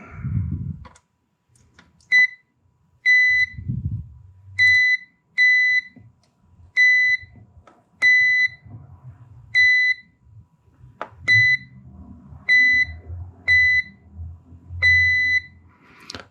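A continuity tester beeps as it probes a Roland CR-78 drum machine logic board, sounding about a dozen short, clear, evenly pitched beeps over soft handling noise.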